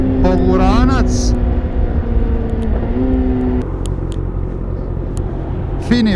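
Kawasaki Ninja 636 600cc sport motorcycle (2024) on a test ride: a steady, loud engine drone and rumble with a rising rev whine near the start, under constant talk from the rider.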